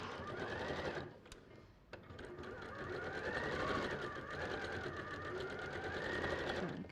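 A sewing machine runs in steady bursts while stitching quilt pieces for an Attic Windows block, close and moderately quiet, with one brief pause.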